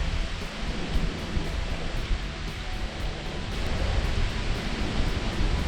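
Heavy rain during a thunderstorm on a rural road through flat moorland pours as a loud, dense hiss, with low rumbling underneath and buffeting gusts. The wash is continuous, and no one speaks.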